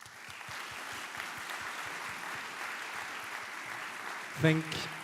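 Sustained applause from an audience at a physics tournament awards ceremony, steady dense clapping throughout with a brief louder burst near the end.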